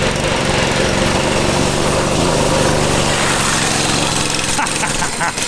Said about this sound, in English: That's like the lowest RPM, highest speed flyby we've ever had.